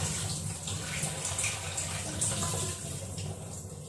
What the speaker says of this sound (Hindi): आलू धो लेती हूँ मैं